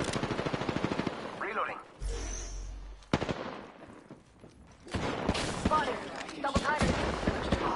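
Gunfire bursts in the video game Apex Legends, loud rapid shots in repeated volleys mixed with game voice callouts and a player talking over the action.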